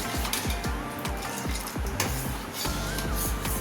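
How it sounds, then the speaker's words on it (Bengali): A spoon stirs powdered sugar into a custard fruit salad mixture, making repeated close scraping and clinking strokes against the bowl in a steady rhythm, with no talking. "এরপরে আমরা এটাকে নাড়াচাড়া করছি"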